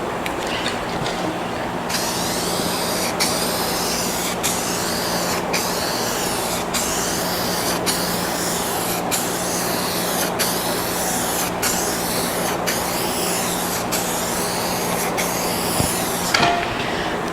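A spray nozzle painting a salvaged Scion tC gives a continuous loud, close hiss for the whole stretch, with faint regular clicking running beneath it and no talking.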